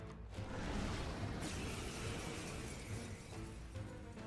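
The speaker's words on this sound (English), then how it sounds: "Is that just the Persona combat noise? That glass shatter?" Glass shatters in a combat sound effect from the video game Metaphor: ReFantazio, a sustained crashing, crackling burst that rings out and trails off over a few seconds, quiet in the mix with no voices.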